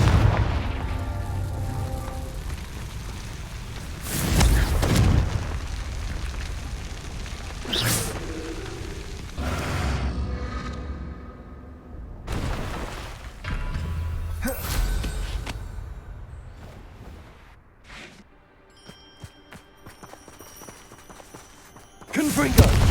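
Repeated Confringo fire spells bursting in the video game Hogwarts Legacy, several loud booming blasts with whooshes spread irregularly across the scene over game sound, with a voice speaking between them.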